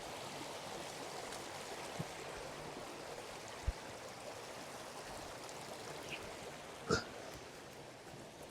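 Stream water rushes steadily at a river crossing during a geological field survey, a broad even wash that carries on throughout, with a few faint knocks and splashes over the top.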